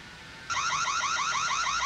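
Reolink Argus 3 wireless security camera siren blaring a loud, rapid repeating warble after half a second of quiet, each sweep rising and falling in a steady pulsing pattern, alone with no voices.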